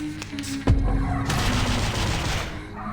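Gunfire barrage skill from the video game Reverse 1999: a sudden heavy boom opens a dense, loud volley of rapid shots that rolls on continuously for about two seconds.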